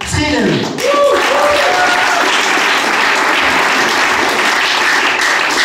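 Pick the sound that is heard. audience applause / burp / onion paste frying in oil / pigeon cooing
audience applause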